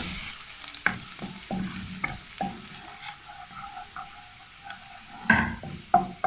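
Chopped garlic fries in hot oil in a pan, a soft steady sizzle broken by several sharp scrapes and clinks of a stirring utensil against the pan.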